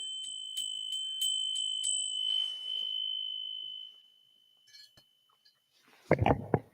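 A small brass bell rings with several quick metallic strikes and a clear lingering tone that fades out, followed by a rustling handling noise near the end.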